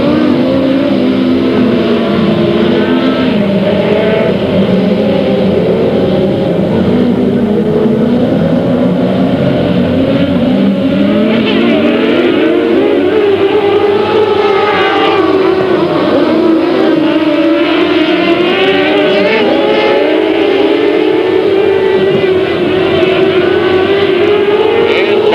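Open-wheel race cars roar around Delta Speedway in 1999, a continuous loud engine drone whose pitch rises and falls as the cars accelerate and pass, with no pause for the full length.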